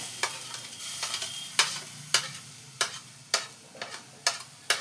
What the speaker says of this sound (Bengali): দিয়ে এটাকে আবার ভেজে নেব, এটার সাথে মিশিয়ে দেবো আর কি